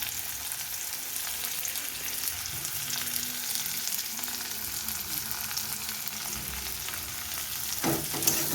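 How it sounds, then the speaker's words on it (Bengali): Chopped onions sizzle steadily in a hot pan, a constant, close frying hiss with faint stirring scrapes and a brief clatter near the end. "পেঁয়াজটাকে একটু হালকাভাবে ভেজে নেব, খুব লাল করে নয়।"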